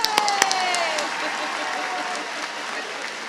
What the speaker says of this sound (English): That's when everybody claps.